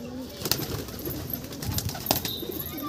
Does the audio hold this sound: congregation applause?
no